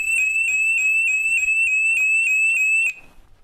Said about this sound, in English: And that's the loud alarm.